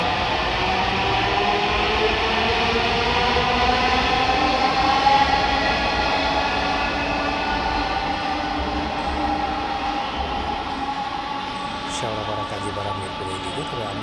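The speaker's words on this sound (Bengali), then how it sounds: "কিছুক্ষণের মধ্যে ট্রেনটি চলে যাবে।" A Dhaka metro rail train departs Farmgate station with a steady, loud electric rumble and whine that stays even and close throughout, with faint voices in the background.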